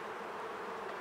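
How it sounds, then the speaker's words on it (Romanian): Wasps buzz around beehives in a continuous, dense drone, steady and close, with no voices. "Încep viespi."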